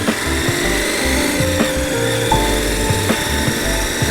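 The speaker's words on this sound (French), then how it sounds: "le deuxième truc plaisant sur cette moto, c'est le bruit du moteur." A 2024 KTM 1290 motorcycle engine runs steadily on its stock exhaust, a continuous low rumble with a loping pulse, close and fairly loud with no talking.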